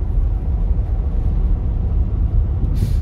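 A 1959 Cadillac DeVille 6329 series moving under throttle, its engine a steady low rumble with broadband road noise throughout, fairly loud and even, with no talk over it.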